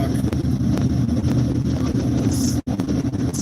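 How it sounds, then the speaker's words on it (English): Steady low rumble of road and tyre noise inside a truck cabin while driving on a smooth but rough-surfaced road in Mexico, continuous and loud with a brief dropout near the end. "Now I can hear all the road noise of the truck."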